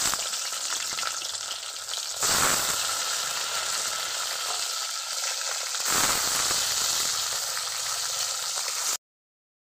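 Potatoes fry in a pan of hot oil with a steady, close sizzle, briefly swelling twice as the pieces are stirred, then cutting off abruptly.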